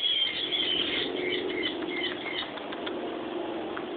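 A parrot flaps its wings in a steady, close, rustling flutter that runs without a break for about four seconds, with a few faint chirps mixed in.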